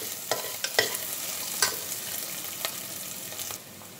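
Onions sautéing in a pan for tomato rice, giving a soft, steady sizzle broken by several light spoon or spatula taps and scrapes, close but fairly quiet and without speech.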